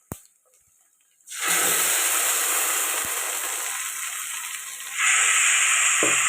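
Ground tomato, garlic, ginger and fennel paste, made for an egg thokku, hits a hot pan after a quiet moment and breaks into a loud, steady sizzling hiss that swells slightly near the end.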